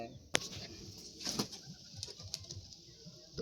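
Kaldom and Laldom pigeons cooing softly nearby, with a few sharp wing flaps and rustles amid quiet low murmuring coos.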